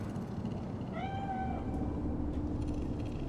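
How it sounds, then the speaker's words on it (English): A single clear cat meow, rising then falling, sounds over a steady low ambient hum in the Cyberpunk video game, with faint mechanical clicks afterward. "Do you see it? That cat?"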